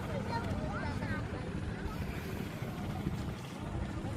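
A steady low motor drone of a motorboat across open water on Magat Dam reservoir, Isabela, moderately near, with a voice speaking over it.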